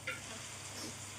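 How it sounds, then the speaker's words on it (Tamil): Ground tomato paste sizzles in a pan while being stirred for a butter beans masala, a quiet, steady frying hiss with a soft scrape of the spoon. "இந்த மாதிரி தக்காளி பேஸ்ட்டை அரைச்சி நல்லா பச்சை வாசனை போகிற வரைக்கும் கிளறி விட்டுக்கோங்க"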